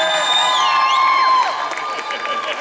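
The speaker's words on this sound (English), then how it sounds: "So hold your applause real quick" Audience at a horror film Q&A panel at a convention cheers, whoops and applauds, a loud mass of crowd noise that is steady for over a second and then thins out slightly.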